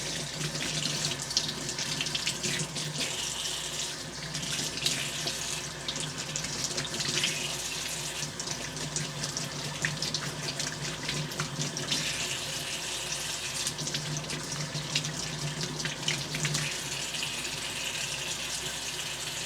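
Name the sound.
tap water running to rinse a knurling tool part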